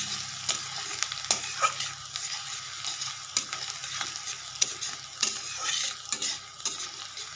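Chopped onions sizzle in hot oil in a pan for a fish-head moong dal, with a spoon scraping and stirring in sharp intermittent strokes over a continuous frying hiss, close up.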